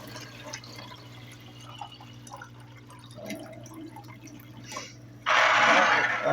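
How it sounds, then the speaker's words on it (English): Water from a jug pours into a Keurig coffee maker's reservoir: soft drips and trickles over a low steady hum, then a louder, rushing pour near the end, close by. "I fill this jug up with water and just pour it straight in."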